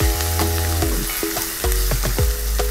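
Chopped onion sautés in hot oil with fenugreek seeds and curry leaves, giving a loud, close sizzle broken by sharp clinks and scrapes from a spoon stirring the pan.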